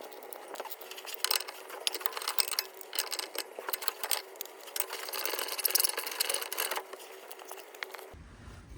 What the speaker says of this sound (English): we'll use a breaker bar followed by a ratchet